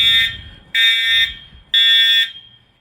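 Three loud, piercing electronic buzzes from a fire alarm at Chaparral High School repeat in a steady pulse, each lasting about half a second with brief pauses, heard close and clear.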